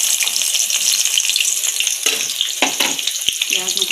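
Onions hit hot ghee and set off a loud, close, hissing sizzle that runs continuously like rushing water, with a few knocks and stirring sounds partway through.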